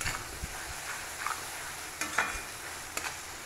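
Chicken roast fries in an iron pan with onion and spring onions, a faint crackling sizzle broken by a few soft scrapes of stirring, fairly quiet with no voices.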